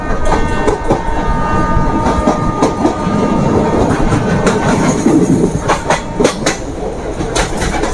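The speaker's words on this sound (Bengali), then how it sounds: "Kolkata Digha special train" Kolkata–Digha special train 03161 running through Dum Dum Junction without stopping: loud, close rail rumble with a steady clickety-clack rhythm of wheels over rail joints throughout, and no voices.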